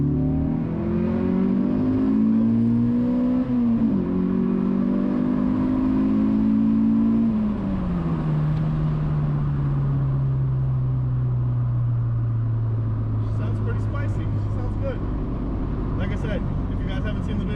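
An H22A engine in an EK Honda Civic revs hard and climbs in pitch through gear changes into VTEC, then settles into a steady high-pitched wail, loud and close throughout.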